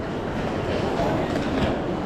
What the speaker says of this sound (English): what it looks like inside of this particular train station over here